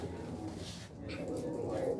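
A Tali pigeon coos on a rooftop in Faisalabad, soft low calls carrying over steady background murmur and faint talk nearby.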